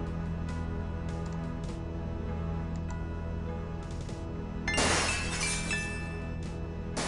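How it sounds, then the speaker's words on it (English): Glass shatters in the Gabriel Knight adventure game, a single loud crash with tinkling shards after a few seconds of quiet ambient music and small clicks. "Gabriel hears the faint sound of breaking glass."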